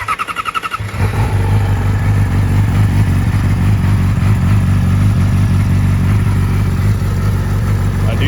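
A 2012 Yamaha R6 sport bike starts after a brief cranking stutter, then settles into a loud, close, steady idle that continues to the end.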